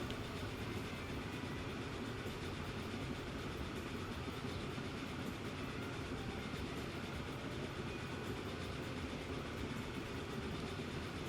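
Passenger trains in the Transport Fever 2 video game run with a continuous low rail rumble and faint clattering wheels, steady and fairly quiet throughout, with no talk.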